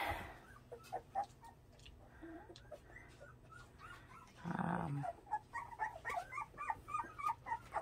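Twenty-day-old puppies in a litter: faint small barks, whimpers and yips scattered throughout, with a louder burst of growly yapping midway, close but quiet.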